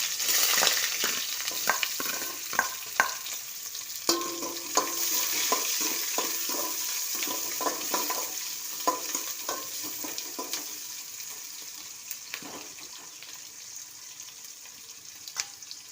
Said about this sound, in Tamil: வேகமாக கடுகு பொரியுது